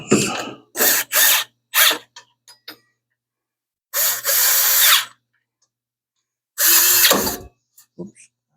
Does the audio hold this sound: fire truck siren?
no